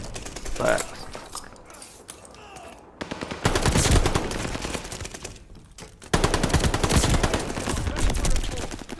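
MP40 submachine gun fire in Call of Duty Vanguard multiplayer rattles in long rapid bursts, a short volley first, then two sustained streams of automatic shots, with a voice talking over the action.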